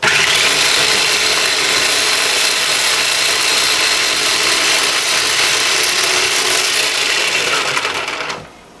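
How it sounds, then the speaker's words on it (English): A food processor grinds onions into a paste with a loud, steady whirring and chopping that runs nearly nonstop, then cuts off abruptly just before the end. "I make the onions into kind of a paste with the food processor"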